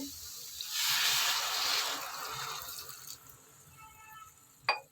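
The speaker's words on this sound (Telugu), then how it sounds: "అప్పుడు ఈ ములక్కాయ ముక్కలు ఉడకటానికి వాటర్ పోద్దామండి" Water pours into a pot of chicken curry with drumstick pieces, a rushing splash that swells, then tapers off, followed by a brief metallic clink.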